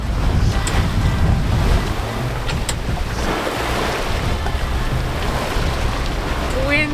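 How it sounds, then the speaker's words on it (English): A sailboat under sail pushes through open ocean waves in about 13 knots of wind, with continuous rushing water and wind buffeting the microphone, loud and close. "enjoy the sound of Nakama pushing through the ocean."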